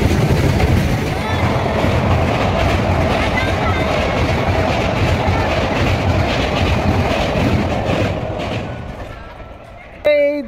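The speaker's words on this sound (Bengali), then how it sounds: "ট্রেনটা যখন গেল" A train passes close by in a loud, continuous rumble with rhythmic clickety-clack of wheels on rails. It fades over the last seconds, and a brief voice is heard at the very end.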